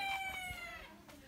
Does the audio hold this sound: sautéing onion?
no